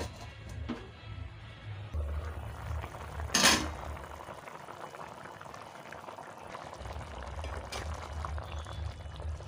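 A pot of spicy sardine fish curry bubbles steadily up close as a spoon stirs it gently, with scattered metallic clinks and a short louder scrape against the pot.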